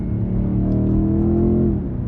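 A BMW M5 Touring hybrid with its chassis set to Sport Plus accelerates hard. Its loud, steady engine note climbs in pitch for about a second and a half, then eases off near the end, with no talking.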